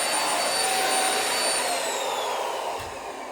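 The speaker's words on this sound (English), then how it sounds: "Let's check this Mite vacuum cleaner." A CLEANMAXX dust mite vacuum cleaner with a UVC light runs with a steady, loud whining motor drone and a high tonal whistle, easing slightly lower near the end, with no talking.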